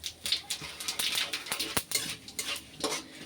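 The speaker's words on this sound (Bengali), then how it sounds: "ফোড়নটা একটু নাড়াচাড়া করে নেব" Whole spices for a tempering (cinnamon, cardamom, cloves and cumin) stirred in hot oil in a pan, giving a rapid run of close spoon scrapes and clinks over a light sizzle.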